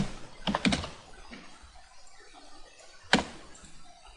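Short bursts of key presses on a computer keyboard, a quick cluster of clicks and then a single later tap, fairly quiet in a still room.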